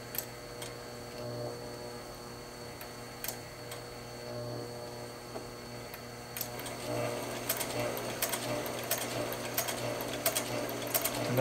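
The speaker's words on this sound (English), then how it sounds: "when the needle hits the leather, the controller is actually increasing the amount of power to push the needle" A Sailrite WorkerB motor drives a sewing machine stitching through leather, giving a steady electric hum with quick ticking needle strokes that grow busier and louder toward the end.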